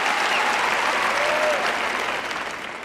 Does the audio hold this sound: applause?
yes